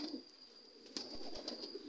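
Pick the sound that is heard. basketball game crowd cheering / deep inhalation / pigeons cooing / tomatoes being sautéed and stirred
pigeons cooing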